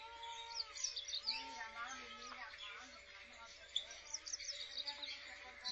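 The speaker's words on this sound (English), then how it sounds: "Look at the little finches." Small finches in a pet store cage chirp and twitter in quick, high bursts, with people talking over them.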